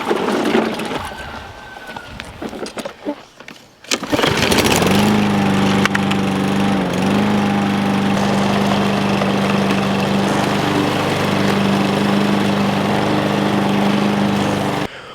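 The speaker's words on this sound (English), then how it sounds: "what you'll probably see from right now is me mowing" A lawn mower starts and runs with a loud, steady engine drone close by, holding a constant pitch with a brief dip, while mowing ground for a small clover and kale food plot.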